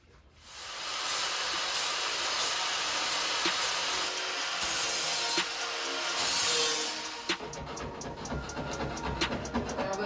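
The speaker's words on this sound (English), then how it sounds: "take off some of the rough edges with a sanding disc" A steady, harsh grinding hiss from a power sanding disc smoothing rough metal edges on a VW Transporter T6, loud and continuous, easing off into rougher, uneven scraping near the end.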